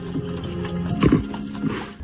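A horse clip-clops in the animated series Castlevania, a few quick hoof thuds at close range with a brief whinny-like snort under a steady backdrop.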